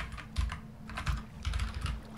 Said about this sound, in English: stop typing like you are